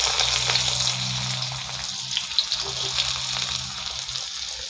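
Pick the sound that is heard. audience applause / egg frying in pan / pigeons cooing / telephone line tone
egg frying in pan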